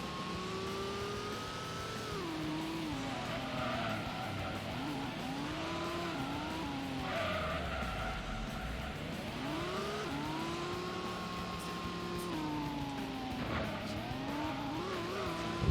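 A car slides sideways in Gran Turismo during a long endurance race, its tires squealing in long wavering tones over a steady, revving engine drone.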